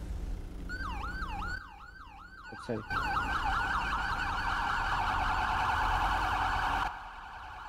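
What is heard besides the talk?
police siren in a GTA roleplay video game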